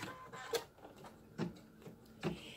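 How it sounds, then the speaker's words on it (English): A Brother ScanNCut machine working an applique placement stitch, giving three soft, evenly spaced mechanical clacks about a second apart over a quiet background hum, heard close up. "I'm going to put that down and have it do my placement stitch."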